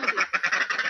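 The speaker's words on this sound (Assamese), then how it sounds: "এই চাৰিটা হাঁহ" Four ducks quack in quick, rhythmic bursts close by, a run of nasal calls packed into one second.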